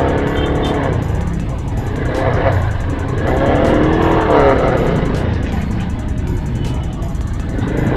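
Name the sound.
road traffic in Taytay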